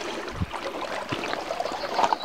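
River water flowing and trickling with a steady, bubbling wash close by, with small splashes and gurgles breaking through now and then.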